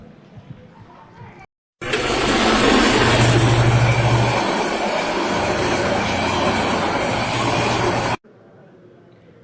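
A train roars past close by on the railway: a loud, dense rumble with rattling wheels that starts abruptly and holds steady for about six seconds before cutting off.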